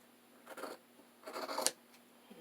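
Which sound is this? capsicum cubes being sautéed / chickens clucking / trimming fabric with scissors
trimming fabric with scissors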